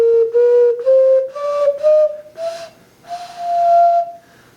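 A handmade ceramic whistle blown close up in a series of clear tones that rise gradually in pitch, with short breathy gaps between blows and a longer airy note near the end.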